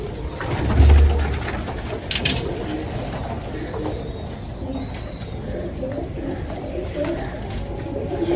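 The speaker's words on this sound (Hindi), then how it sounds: "ले जी, ये वो कबूतर है।" Soft pigeon coos rise over a steady outdoor background hum, with a slightly louder burst near the start and faint chirps scattered throughout.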